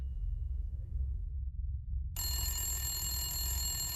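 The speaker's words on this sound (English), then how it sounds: "I was at my homeboy's house when the phone rings." A telephone starts ringing partway through, a bright electronic trill that continues steadily over a low background hum.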